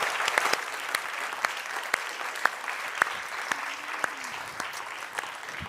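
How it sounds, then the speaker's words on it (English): An audience claps for the speakers at the close of a public talk on loneliness, an even, sustained round of applause with scattered sharp claps punctuating the steady patter, and no voices over it. "we'll applaud you all, so thank you."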